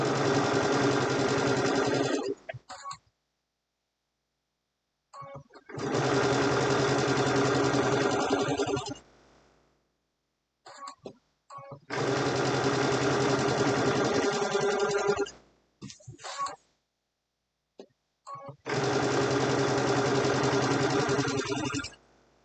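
A sewing machine stitches a pillowcase, running in four steady, close bursts of a few seconds each, separated by short pauses of near silence.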